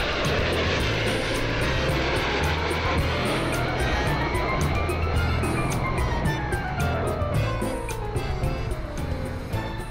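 Loud, continuous roar of a MiG-29 fighter jet in flight, with the engine pitch sweeping as it passes close by.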